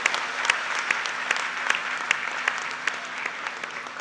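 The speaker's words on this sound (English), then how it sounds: "Let's give them a round of applause." Steady applause from a crowd at a university convocation ceremony, dense clapping with a few sharper claps standing out, continuing evenly throughout without voices.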